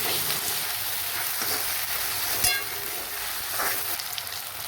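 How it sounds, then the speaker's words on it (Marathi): Ginger garlic paste frying in oil in a pan for a spicy mutton dish gives a steady, close sizzle that holds throughout, with a few brief spatters and stir scrapes rising over the hiss. "आता याच्यात टाकू 1 चमचा आलं लसणाची पेस्ट. याला पण छान परतून घेऊ."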